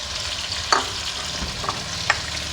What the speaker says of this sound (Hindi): अब इस स्टेज पे ये जो मेरे पास टमाटर मैंने 4 अदद ब्लेंड किए ये मैं इसमें शामिल कर दूँगी इस तरीके से